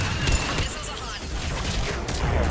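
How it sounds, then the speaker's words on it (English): Missiles launching in a Mass Effect 3 battle: a sharp burst of whooshing launches and blasts at the start, then dense rumbling explosions and combat noise, with voices speaking over the action. "Missiles are hot."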